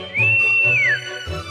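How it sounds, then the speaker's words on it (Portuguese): A single clear whistle, made by a mischievous folklore character as it arrives, rises into a long sustained tone and then slides downward, standing alone over a low musical hum. "Quando chego, dou um assobio misterioso."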